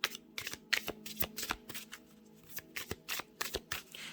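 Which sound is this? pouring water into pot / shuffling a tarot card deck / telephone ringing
shuffling a tarot card deck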